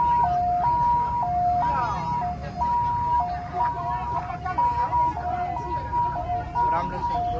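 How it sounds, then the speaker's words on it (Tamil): An ambulance siren wails loudly in a steady two-tone alternating pattern on a busy street during a Matsu sea goddess pilgrimage festival in Taiwan, staying close throughout with traffic and crowd noise beneath it. "ஆம்புலன்ஸ் வருது."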